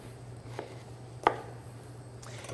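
A kitchen knife cuts a watermelon in half lengthwise on a cutting board, heard as a few soft, sparse thuds with one sharper chop near the middle, faint and close against a quiet room with no speech.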